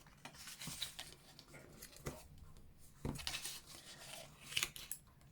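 Scissors cut through card stock while making a Christmas gift box, a quiet close sequence of separate crisp snips and slicing rasps spaced irregularly, with soft rustling of the card between cuts.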